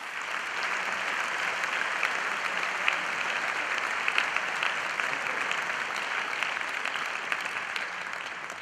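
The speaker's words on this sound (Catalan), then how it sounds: "sisplau, un fort aplaudiment" Applause fills a literary awards ceremony in Girona, a steady, dense clapping from a large audience that carries evenly for several seconds with no voices over it.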